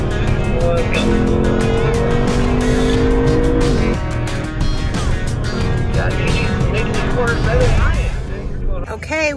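A Lexus car is driven fast around the Circuit of the Americas track during a performance driving school, its engine roaring loudly and steadily with tire noise. A voice talks over it.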